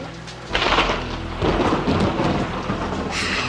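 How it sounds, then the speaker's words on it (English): A thunderstorm with rolling thunder rumbling in loud bursts over a constant hiss of heavy rain, with no voices. "Can you believe this storm?"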